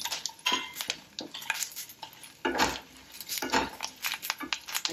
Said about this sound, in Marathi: याला थोडासा लसणाला गुलाबी रंग येईपर्यंत आपल्याला लो टू मीडियम गॅसवर भाजून घ्यायचं आहे